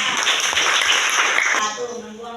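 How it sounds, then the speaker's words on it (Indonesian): A classroom applauds a student group with brief, lively clapping that fades after a moment as a voice comes in. "Tepuk tangan dulu buat kelompok"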